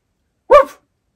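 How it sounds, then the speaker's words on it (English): A single short, sharp dog-like bark rings out close and loud in an otherwise silent moment in a hospital setting. "Oh, it's a dog."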